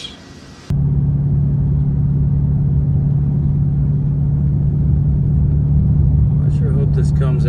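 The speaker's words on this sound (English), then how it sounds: "My foot is completely off the gas. Oh, we're only doing 53 miles an hour." A car coasting down a steep road with the driver's foot off the gas, about 53 mph, gives a steady loud engine and road rumble throughout, with a voice speaking over it.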